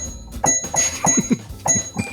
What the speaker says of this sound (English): it's my little piano on my desk, and I'm trying to play Jingle Bells